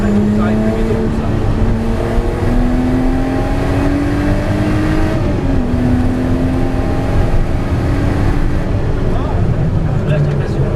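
Race car engine accelerating on a track, a loud, continuous in-car drone with rising pitch and a gear change midway, while a man coaches in French over it.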